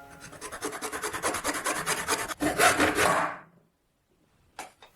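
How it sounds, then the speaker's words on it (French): A hand saw cuts a plastic pipe along a tape edge in steady rapid back-and-forth strokes, close and loud. The sawing stops, a short silence follows, then one brief scrape. "Sciez exactement le long du bord du ruban."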